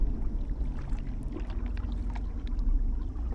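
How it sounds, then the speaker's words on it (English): Distant rushing water from a dam bursting and flooding in Outer Wilds, a low steady roar with gurgling surges that swell slightly toward the end. "I think that's the sound of the dam breaking"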